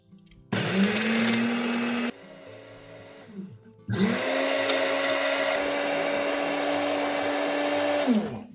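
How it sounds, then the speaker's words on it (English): A kitchen blender grinding dried garlic peels into powder, running in two loud, steady bursts with a brief lower-pitched pause between, each start spinning up and the motor whine holding constant, close and without speech. "garlic peels into a blender and ground them into a fine powder for easier use"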